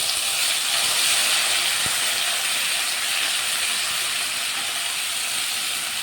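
Onion paste hitting hot oil with cumin and mustard seeds for an egg curry, a loud, continuous, even sizzle and hiss close up, with no talking over it.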